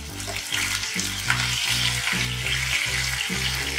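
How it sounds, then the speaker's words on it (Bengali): Prawns sizzling briefly in hot mustard oil in a pan, a loud steady frying hiss with rhythmic scraping strokes as they are stirred, no voices. "এবার এর মধ্যে আমি প্রথমে চিংড়ি মাছটাকে দিয়ে হালকা করে একটু নাড়াচাড়া করে তুলে নেব"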